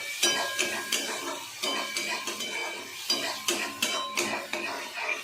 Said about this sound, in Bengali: সেটা দিয়ে টমেটোটাকে ভালো করে কষে নেব